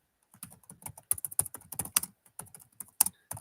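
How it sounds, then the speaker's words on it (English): Rapid, uneven clatter of typing on a computer keyboard, close and fairly quiet, with bursts of keystrokes and brief pauses and no talking over it. "Sorry, I'm typing like that."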